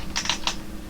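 Computer keyboard keys typed in a short burst of a few quick clicks, close and fairly quiet, while entering code in a C++ editor, with no talk.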